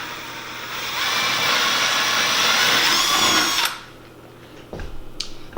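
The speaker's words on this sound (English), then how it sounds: "You want to drill your hole." A power drill bores a hole into drywall for a toggle anchor, a steady loud whine lasting about three and a half seconds before cutting off, followed by a few faint handling clicks.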